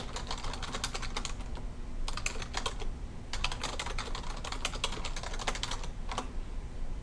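Rapid typing on a computer keyboard while a document is formatted, with dense bursts of keystrokes separated by brief pauses, close and steady with no talking.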